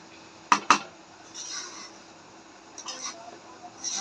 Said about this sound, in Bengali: নাড়াচাড়া দিয়ে সব কিছু মিশিয়ে দিব।